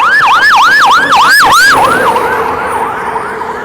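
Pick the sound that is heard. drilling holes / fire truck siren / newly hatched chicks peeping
fire truck siren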